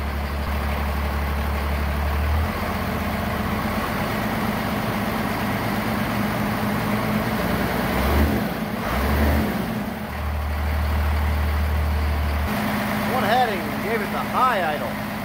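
A 1990 Dodge D250 pickup's Cummins diesel engine idles with a steady, deep low rumble that shifts in pitch partway through, as if the idle is raised, while a voice speaks briefly near the end.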